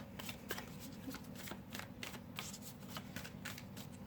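Tarot cards are shuffled close by in a quiet room, a quick rhythmic series of papery riffles and soft slaps repeating steadily throughout, with no talk.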